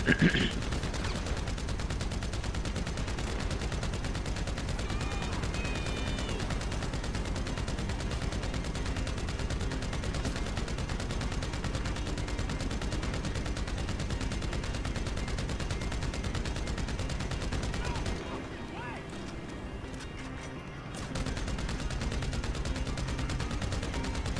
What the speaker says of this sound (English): That sounds like a lot of explosions.